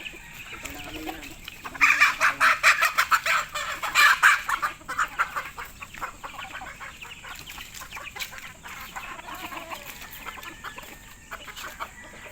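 Chickens cluck and squawk in a farmyard, with a burst of loud, busy clucking early on that settles into scattered quieter calls over steady background ambience.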